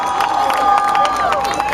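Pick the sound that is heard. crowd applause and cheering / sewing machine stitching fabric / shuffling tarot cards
crowd applause and cheering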